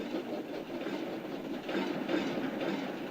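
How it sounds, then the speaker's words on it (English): A freight flatbed wagon on a railway shudders and shakes as its buffers are bumped, giving a continuous rattling rumble with a clattering rhythm that holds steady throughout, with no voices. "Suddenly a freight car began to shudder and shake."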